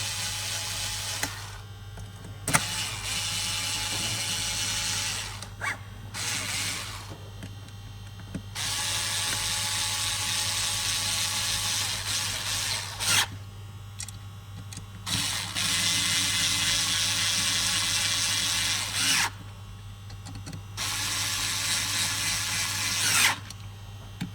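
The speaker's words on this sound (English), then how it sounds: "hook onto the upper bracket, and just screw the 4 screws in" Four screws being driven into the bracket of a clamp-on ultrasonic flowmeter mounted on a pipe, with repeated bursts of close, loud ratcheting and whirring from a powered driver separated by short pauses, and no talking.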